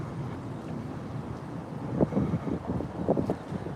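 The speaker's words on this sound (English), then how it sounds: "if the wind's coming in, it might muffle the sound a little bit" Wind buffeting a microphone during an outdoor walk along the ocean between Santa Monica and Venice Beach, a steady low rumbling roar with stronger gusts near the end, no talking.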